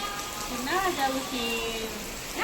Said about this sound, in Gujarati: ફૂલ વરસાદ આવે છે